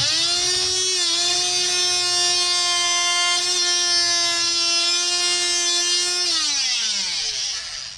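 A power tool blade cuts the seal on a hot tub motor and pump with a loud, steady, high-pitched whine. It holds close and constant for several seconds, dips briefly near the start, then winds down in pitch at the end.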